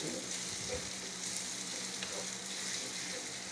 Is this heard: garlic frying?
yes